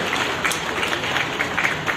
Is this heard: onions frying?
no